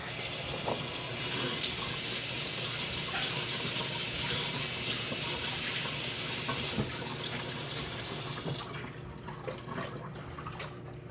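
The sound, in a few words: rinsing hands under running tap water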